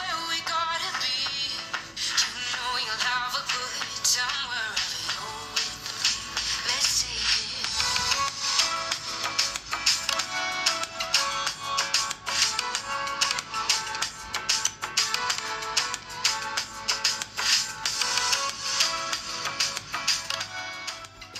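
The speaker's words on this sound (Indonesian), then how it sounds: "ITEL A70 juga punya single speaker aja yang letaknya di bagian bawah dengan output suara yang bisa dibilang cempreng" Music plays through the single bottom-firing speaker of an itel A70 budget phone, a thin, tinny sound lacking bass, heard steadily and fairly close throughout with no talking.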